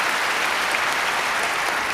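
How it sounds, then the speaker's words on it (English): Steady, dense applause from a large table tennis crowd at the 2018 Japan Open final, cheering Mima Ito in her match against Wang Manyu; the clapping fills the hall evenly and continuously, with no voices standing out. "the crowd shows up"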